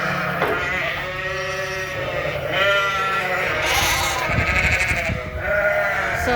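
Sheep, white ewes and Suffolks, bleating repeatedly on a farm as lambs are moved between pens, with several loud overlapping calls close by over steady background noise.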